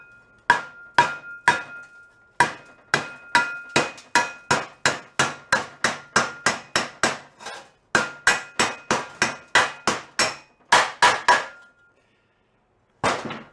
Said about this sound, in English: this is after tapping it with a hammer, knocking the heavy rust off